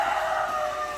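Chickens of the Bulik Texas breed cluck and call faintly but steadily inside a wet, water-soaked coop, with no talking over them.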